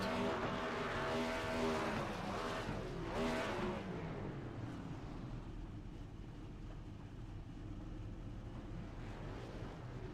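Race cars rolling off the grid at the Iowa track at night, a dense engine roar that is loud at first with a rising tone, then settles into a steady, slightly quieter drone.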